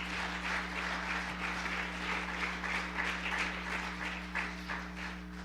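A church congregation applauds, a faint, steady patter of many hands clapping from a distance over a low constant hum, lasting several seconds without a break.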